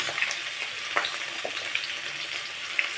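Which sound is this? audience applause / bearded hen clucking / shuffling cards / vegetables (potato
vegetables (potato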